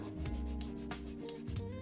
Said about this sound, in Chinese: 梯形也是厚度打磨和底部轮廓线的打磨